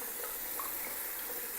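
Water runs steadily from a handheld shower head during rinsing after cleaning, a continuous close hiss of spray with no voices.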